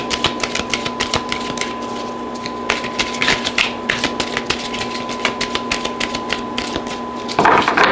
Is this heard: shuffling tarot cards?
yes